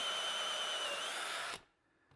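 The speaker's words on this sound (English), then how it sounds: "The first step is to drill an angled pocket in both ends of the rails." A power drill whines at high speed while boring an angled pocket hole into the end of a wooden cabinet frame rail, close and loud for about a second and a half, then stopping abruptly into near silence.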